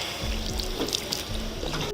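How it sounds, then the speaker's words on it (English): Water splashes and trickles as it is poured over a man's head during a police traffic stop, a close, continuous gush with bursts of spatter for about two seconds. "I'm gonna pour this over your head. It's water."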